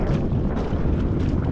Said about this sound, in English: It's actually pretty blowy.